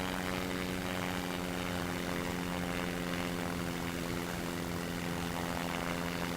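Steady, even drone of a plane engine in the flight game Simple Planes, holding at a constant pitch and loudness throughout with no talk over it.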